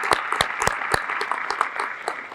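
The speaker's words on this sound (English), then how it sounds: "Can we just give them a round of applause, please?" Audience applause at a firefighter awards ceremony: a short burst of sharp hand claps, fairly close and moderately loud, with no talking over it.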